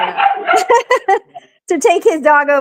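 An excited dog named Mako gives a quick run of high, yelping barks and yips at close range, broken by a short pause, with people's voices mixed in.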